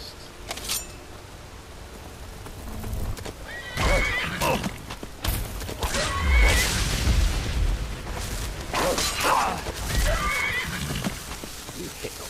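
A horse neighs loudly several times in modded Skyrim Anniversary Edition, with clip-clopping hooves and heavy booming thuds mixed in, like an action game scene.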